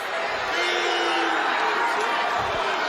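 A wrestling arena crowd at a Michigan State at Minnesota dual meet roars steadily, a dense sustained wash of voices calling out for a takedown, loud and continuous throughout.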